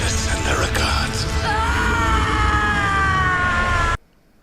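Catelyn Stark's scream from a Game of Thrones Season 7 trailer, a long, loud, wavering cry layered over dramatic music that cuts off abruptly near the end.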